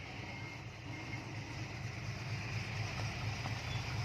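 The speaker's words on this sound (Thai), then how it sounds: "เสียงโหดเสียงโหดไม่มีท่อพัก" Steady, rough engine rumble from an engine with no muffler, a coarse low throb, close and continuous throughout, no talking.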